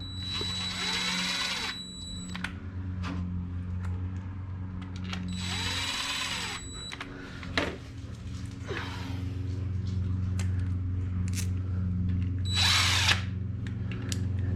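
Power tool torquing clutch bolts while installing a ceramic twin-disc clutch, three sustained loud bursts of whirring drive, each about two seconds, separated by short gaps with scattered clicks and a steady background hum.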